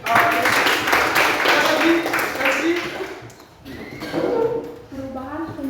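An audience at an academic coaching session gives a burst of applause, with clapping under a speaking voice for a few seconds before it fades and the talk continues.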